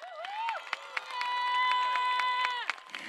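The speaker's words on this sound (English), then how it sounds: "Give yourselves a round of applause." A high school graduation audience responding in a crowded venue: a loud, sustained whooping cheer rises and falls over scattered claps and crowd noise.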